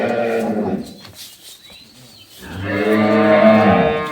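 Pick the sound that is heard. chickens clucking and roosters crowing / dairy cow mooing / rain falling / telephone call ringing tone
dairy cow mooing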